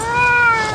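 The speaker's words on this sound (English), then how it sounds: "He's a male cat, domestic short hair." A male domestic shorthair cat gives one loud, close, drawn-out meow with a strong tonal, harmonic quality, sounding alone with no talk over it.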